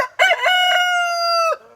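A rooster at a house crows once, loud and close, with a short broken opening followed by a long sustained drawn-out note that cuts off abruptly.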